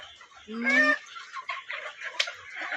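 A red junglefowl (labuyo) among backyard chickens gives a short harsh crowing call, followed by scattered clucks and rustling outdoors, with faint voices mixed in.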